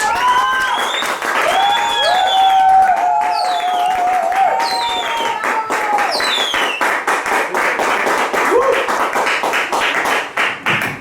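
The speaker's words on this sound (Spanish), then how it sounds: "quiero que recibamos con un fuerte aplauso, con esa sala llena que tenemos ahí" An audience in a full hall bursts into loud applause and cheering, with whistles and shouts rising over the clapping before it thins into scattered claps.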